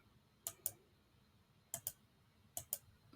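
Computer mouse clicks in crisp close pairs, three double-clicks spaced about a second apart over a quiet background hum.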